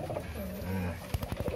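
A caged songbird coos with soft low repeated notes at a bird contest, with voices talking nearby and a few short thumps near the end.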